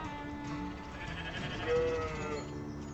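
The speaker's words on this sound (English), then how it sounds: "registered Icelandic sheep." Icelandic sheep bleat faintly on a farm, a soft wavering call in the background under a low, steady murmur of other sound, over just a few seconds.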